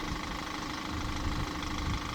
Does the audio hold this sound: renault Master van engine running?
yes